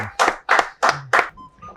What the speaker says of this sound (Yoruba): ẹ já pàtẹ́wọ́ fún wọn